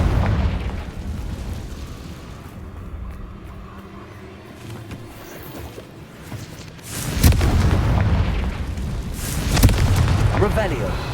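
Confringo fire spell in Hogwarts Legacy, blasting Rookwood's men: two loud, sharp explosive bursts a few seconds apart, each with a booming rumbling tail, over a busy combat bed with a voice shouting spell names.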